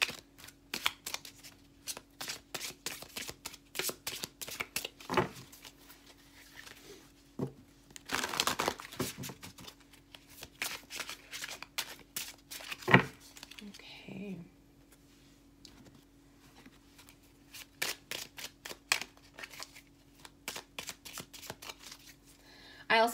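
Lenormand cards being shuffled by hand for a love reading, repeated crisp riffling bursts with short pauses, close and fairly loud, over a steady low hum.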